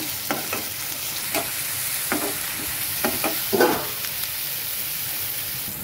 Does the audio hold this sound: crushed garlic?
yes